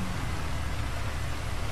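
Heavy rain in the open world of GTA V, a steady broadband hiss of downpour that fills the whole short stretch at an even, loud level with no talk over it.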